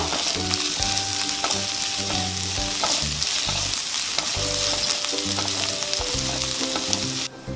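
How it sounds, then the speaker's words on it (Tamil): Ginger, green chilies and chopped onion sauté in a pan for ghee rice, giving a loud, steady sizzle with stirring throughout. A tonal musical bed plays underneath. "இது எல்லாத்தையும் நல்லா வதக்கிக்கோங்க."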